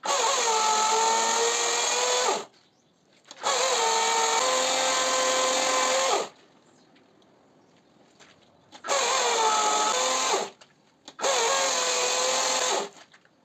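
A power tool cuts into wood while a stingless bee colony is being moved, running in four loud, steady bursts of a few seconds each with short quiet gaps between them.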